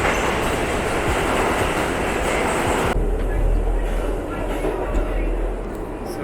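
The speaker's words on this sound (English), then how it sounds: "So we're taking the subway right now" A New York City subway train rumbles and clatters along during a ride, with steady rail noise, a sudden drop in high-frequency hiss midway, and people talking over it.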